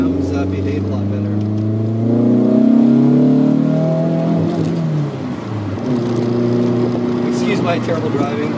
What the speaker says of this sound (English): you dip the throttle just a tiny amount and the car starts to pull